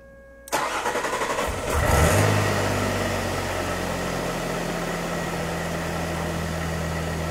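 A car engine cranks briefly, catches and starts, then settles into a steady, fast high idle that hums on continuously, close by and with no talking.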